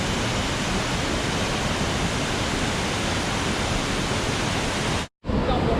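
Rainforest waterfall roaring as a steady, loud, broadband rush of falling water among rocks, unbroken apart from a brief cut near the end.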